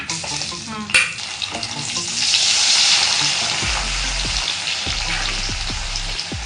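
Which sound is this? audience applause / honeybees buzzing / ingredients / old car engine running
ingredients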